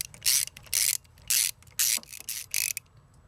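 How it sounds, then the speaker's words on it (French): A wrench ratchets on a spark plug in the engine of a Renault Twingo 1.2 16V, six close bursts of rapid clicking, each about a quarter second long, separated by short pauses. "Ensuite je vais retirer la douille afin de finir en fait le serrage à la clé dynanométrique."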